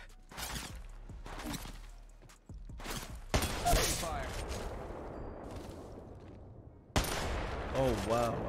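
Automatic gunfire in the Apex Legends Mobile video game comes in short bursts, then a loud sustained volley with ringing echoes, and another sharp burst near the end, with faint voices mixed in.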